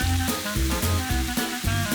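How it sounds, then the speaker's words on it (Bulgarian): Meat searing in olive oil in a hot pan, seasoned with salt and pepper, gives a steady close sizzle with a rhythmic pulse over a background of music, and no one speaks. "В горещ тиган добавям маслиново масло, месото, овкусявам с сол и пипер и запържвам до приятен загар."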